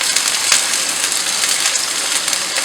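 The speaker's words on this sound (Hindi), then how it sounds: "इसमें लहसुन डाल दूँगी और इन दोनों को अच्छे से मैं गोल्डन ब्राउन करूँगी" Onions and garlic frying in a pan until golden brown give a steady, loud crackling sizzle with no voices over it.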